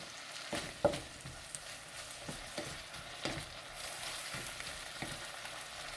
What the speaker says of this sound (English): Alright, just keep on sauteing it.